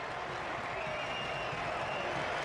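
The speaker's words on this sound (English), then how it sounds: "The German faithful in the crowd erupt." A German stadium crowd roars in celebration after a goal for Germany in a World Cup match against the USA, a dense, steady wall of cheering and applause from thousands of fans with a commentator's voice underneath.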